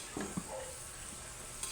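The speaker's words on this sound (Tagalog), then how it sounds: "Haluin lang natin siya." Kaldereta stew being stirred in a pan, with a few soft scraping knocks over a faint steady sizzle, close by and with no talking.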